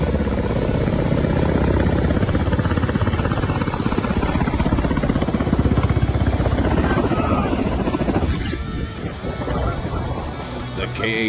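A Ka-52 attack helicopter flying low over people standing nearby, a loud, close, continuous rotor thump and turbine roar that eases slightly near the end.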